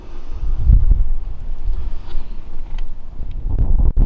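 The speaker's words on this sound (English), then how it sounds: "It's a very windy day here in Normandy" Low, rumbling wind buffeting a microphone outdoors in Normandy, steady throughout with a few heavier gusts, no voices.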